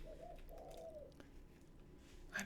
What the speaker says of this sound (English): I don't even know what kind of bird it is.